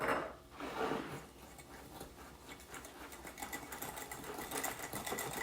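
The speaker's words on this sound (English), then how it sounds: "And to that, I'm going to put two eggs. And I'm just going to whisk that together." Two eggs whisked in a bowl for Southern tea cake batter, a rapid continuous rhythmic clatter of the whisk against the bowl, fairly quiet and steady throughout with no talking.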